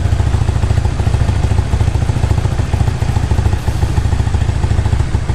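Suzuki Spin motorcycle engine running close up, a steady loud chugging idle with an uneven, sputtering rhythm when the throttle is opened.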